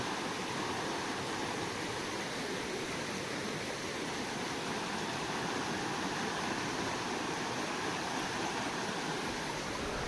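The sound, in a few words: flowing stream (vhal) beside a cashew orchard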